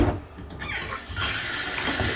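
Hot water gushes from a bathroom tap, a steady close-up rushing and splashing that swells slightly as the flow settles, with no talking over it.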